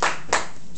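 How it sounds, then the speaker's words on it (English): Students in a high school classroom at a health day give two quick, close hand claps, a brief burst rather than sustained applause, with silence after. "Give yourself a round of applause."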